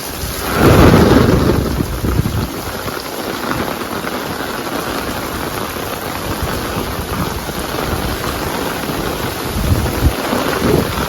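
A loud rumble of thunder opens over heavy, steady rain pouring down, the downpour continuing without letup and no voices.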